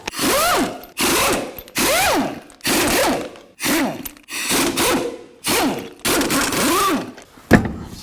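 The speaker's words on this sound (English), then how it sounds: "I'm going to use a 22mm socket, take off all the lug nuts." A 22mm socket on a power tool spins lug nuts off the wheel of a 2000-2006 Chevy Tahoe, making about eight short whirring bursts that rise and fall in pitch, close by and fairly loud, with brief pauses between them.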